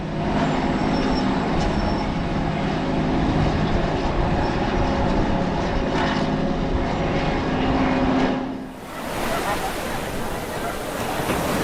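A long freight train on the BNSF line in the Mojave Desert near Ludlow, California rumbles past steadily and loudly, its dense roar holding for several seconds before shifting abruptly to a brighter, hissing noise.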